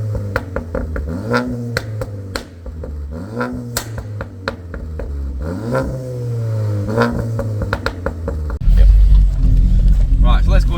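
A VW Golf Mk8 GTI with its OPF/GPF deleted, tuned to about 380 horsepower, revs repeatedly in loud rising and falling sweeps, with sharp pops in between, ending in a heavy roaring rumble.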